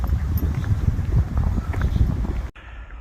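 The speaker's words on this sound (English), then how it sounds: "it's a bit windy, a bit gusty" Steady gusty wind buffets the microphone with a low roar on a walk at Bathpool, Somerset, then drops off abruptly near the end, leaving a quieter hiss.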